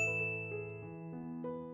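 A notification bell sound effect rings out as a series of clear, resonant dings, each struck tone stepping to a new pitch and ringing on, close and clean with no talk.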